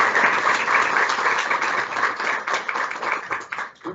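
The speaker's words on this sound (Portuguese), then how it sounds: "Uma salva de palmas para a professora." Audience applause for a professor at a university lecture event, a dense, steady wash of many hands clapping that stays loud throughout and thins slightly toward the end.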